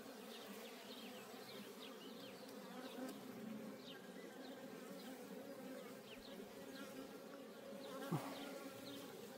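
Honey bees hum densely around a beehive frame while a queen-rearing colony is being set up; the buzzing is steady, close and continuous, with individual bees zipping past and no voices.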